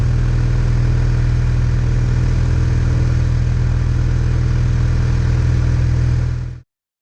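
Steady loud drone of an Aeronca C3 light aircraft engine heard from inside the cockpit in flight, a constant low throbbing hum with no talk, cutting off abruptly near the end.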